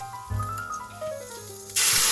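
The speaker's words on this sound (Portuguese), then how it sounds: "Aqui eu adicionei um pouco de vinho na frigideira para limpar essa sujeirinha da carne" A sudden loud hiss bursts out near the end as wine hits a hot frying pan to deglaze beef residue, following quieter clattering and faint tonal background sounds.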